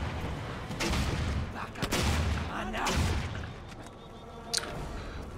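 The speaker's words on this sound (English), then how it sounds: "Let's bring out the pop rockets." Pop rockets fire in the Rage video game as a run of loud, booming explosive bursts spread across several seconds, then a sharp crack near the end.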